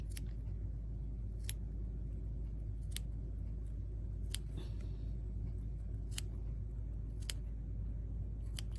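Scissors snip through a knitted steek, sharp isolated cuts about once a second over a steady low background hum, with no talking.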